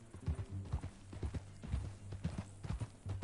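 Horse hooves clip-clop in a steady, close rhythm across the open trail in the Western video game Red Dead Redemption 2, with a low droning hum running underneath the hoofbeats.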